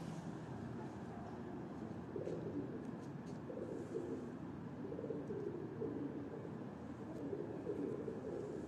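Soft, repeated cooing of pigeons on a Lahore rooftop over a steady low background rumble, continuing throughout at moderate distance.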